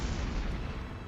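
Missiles explode in the video game Trails to Azure as a dense, loud rumbling blast that fills the whole short moment without pause.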